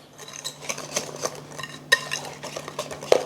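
A spoon stirs seasoning into a thick pickle dip in a bowl, producing soft, irregular squelching and scraping strokes with light clinks against the dish, close and quiet.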